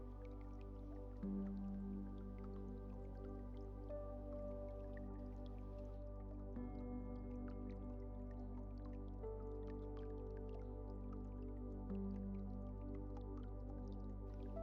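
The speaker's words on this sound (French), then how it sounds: "Entendez ces gouttes d'eau résonner en vous et appelez-les." Water drops fall one after another in a steady, irregular patter, faint and close, over a sustained low droning tone.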